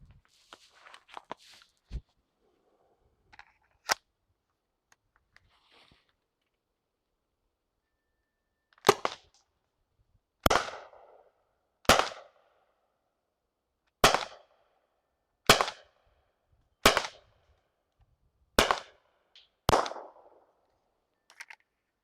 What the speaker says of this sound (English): the first shot barely just primes that CO2 cartridge. Then the second shot and the shots after that are gonna be way more powerful